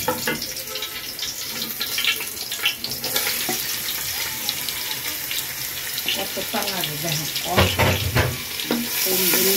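Steady loud sizzle and hiss of onions frying in oil with bay leaves and cardamom for a home-cooked biryani, continuous throughout with occasional stirring clatter.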